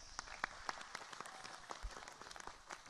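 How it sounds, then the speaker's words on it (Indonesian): An audience at an Islamic religious gathering gives a short round of scattered clapping for the regent, moderately close with uneven, crackling claps. "Tepuk tangan untuk Pak Bupati"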